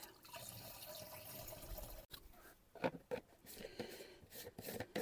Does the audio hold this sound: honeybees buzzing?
no